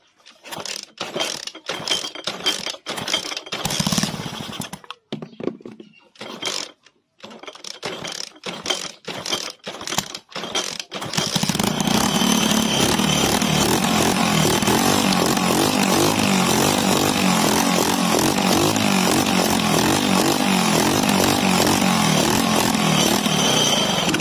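A motorcycle engine revs in short, separate bursts with choppy gaps, then settles after about eleven seconds into a continuous loud, close running drone that holds steady to the end.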